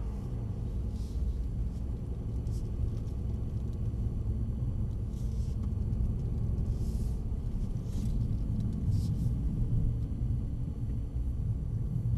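Mercedes-AMG C63 engine running under gentle throttle in comfort mode, a steady deep low rumble with road and cabin noise throughout, continuous and fairly loud with no talk.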